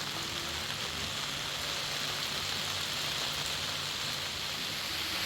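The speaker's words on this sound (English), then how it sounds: "Still raining" Steady rain falls on an outdoor railway site, a continuous even wash of hiss that stays at the same level from start to finish with no voices.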